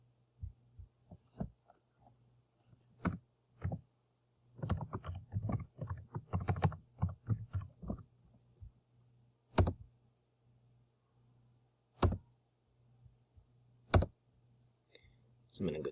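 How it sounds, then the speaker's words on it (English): Key presses on a calculator as functions are typed in, scattered sharp clicks, some single and some in quick bursts, close and fairly quiet, separated by pauses over a faint steady hum. "So I'm going to go type those in here real quick."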